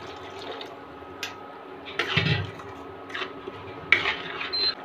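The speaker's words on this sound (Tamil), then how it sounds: "இப்போ நல்லா கொதிச்சுக்கிட்டு இருக்கு." Potato gravy bubbles and pops in a pan, a few irregular bursts over a soft simmering hiss.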